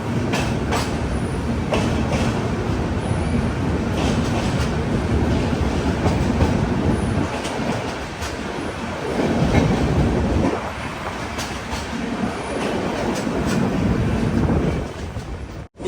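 Steady, loud rumble and clatter of wheels from inside a moving 3AC AC Express coach as it runs through a short tunnel, the roar shifting in tone partway through with no talking.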